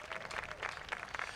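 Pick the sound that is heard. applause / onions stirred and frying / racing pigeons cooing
applause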